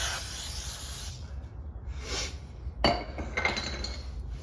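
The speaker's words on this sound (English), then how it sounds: "I'm just gonna go ahead and spray a little bit more brake cleaner right here real quick" Brake cleaner sprayed onto the Brembo four-piston brakes of a car during a Z26 pad install, heard as short hissing aerosol bursts with a few light metallic clinks, fairly close and without talk.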